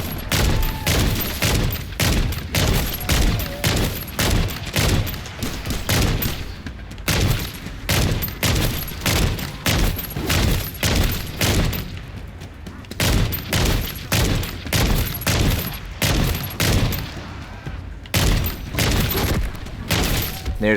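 A pack-a-punched sniper rifle firing in a Call of Duty zombies-style match: a long run of loud, sharp, closely spaced shots in a steady rhythm, with brief pauses, dense and close.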